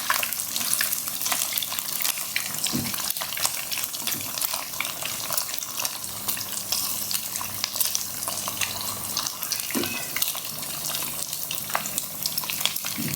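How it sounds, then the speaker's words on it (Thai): Thin slices of marinated pork hip deep-frying in oil over medium heat, a steady dense crackle and sizzle running throughout with occasional sharper pops and faint utensil stirring, close and continuous with no talk. "ทอดไปเรื่อย ๆ นะครับพลิกไปพลิกมา นี่ก็ใช้ไฟกลางในการทอดนะครับ"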